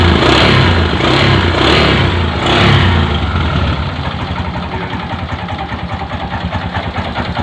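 A Honda CB 125 motorcycle idles up close with a steady, loud mechanical drone, and a rattling clutch damper clatters through it, the note dipping slightly partway through.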